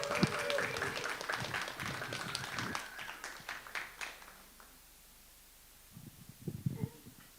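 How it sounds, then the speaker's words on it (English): Audience applause at a live poetry jam rises as a dense burst of clapping, then thins out and fades after a few seconds, leaving a quiet room with a few faint sounds near the end. "Give a round of applause."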